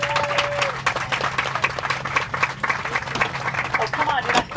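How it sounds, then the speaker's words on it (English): Passengers aboard a Delta flight to Honolulu clap for the flight crew, scattered uneven applause in the cabin, with talk and voices mixed in. "please join your flight crew in a round of applause"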